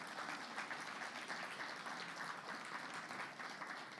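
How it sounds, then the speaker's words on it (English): An audience at an education sector conference session applauds continuously, a dense steady wash of clapping from many hands with no break. "Can we give the presidency another round of applause?"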